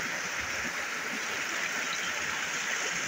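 A forest river flows over large stones in a steady, full rushing wash, close by and continuous without pause.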